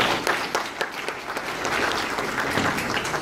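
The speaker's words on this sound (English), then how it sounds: "give yourself a round of applause" A forum audience at a Democratic candidates event gives a round of applause, a dense, even wash of many hands clapping at moderate distance, sustained for a few seconds with no talk over it.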